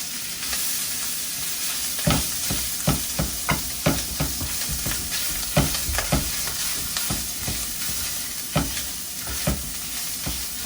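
Sausage frying in a little oil in a pan for biscuits and gravy, with a steady close sizzle and repeated sharp scraping stirs of a utensil through the meat.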